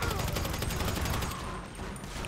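A burst of rapid gunfire from a player's weapon in Grand Theft Auto V, loud and dense throughout the short stretch with a slight dip partway through.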